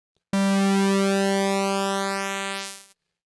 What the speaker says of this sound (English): the third mode with the subtraction is going to subtract that identical out of phase waveform from the original waveform.